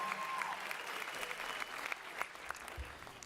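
Audience applause at a university diversity monologues event, moderately faint, dense clapping with scattered louder claps and some crowd noise, a brief voice near the end.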